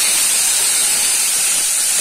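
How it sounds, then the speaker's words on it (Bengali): Peas, tomatoes and spices frying in a pan for mung dal curry, a continuous, close sizzling hiss that stays loud and even throughout, with no voices. "আবার ভালো করে একটু ভেজে নিতে হবে।"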